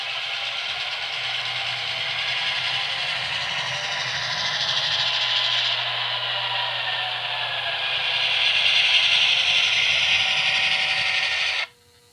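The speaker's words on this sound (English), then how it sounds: "You do have to wait for the sound to fully initiate before the locomotive will move" An HO scale Atlas GP7 model locomotive's sound system starting up, producing a steady low diesel-like hum and rattle that builds slightly over about twelve seconds before cutting off abruptly.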